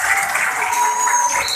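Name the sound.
group applauding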